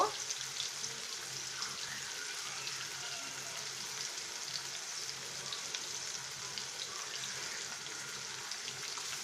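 Chopped onions sizzle and fry in a pan while being stirred, part of cooking taro leaves (kochu shak) with hilsa fish head; a steady close hiss with soft scraping throughout, no talking.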